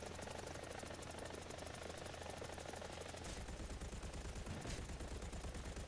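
A helicopter's cannon in the War Thunder combat game fires in rapid continuous bursts over a steady rotor and engine drone, loud and close, with the firing rhythm shifting partway through.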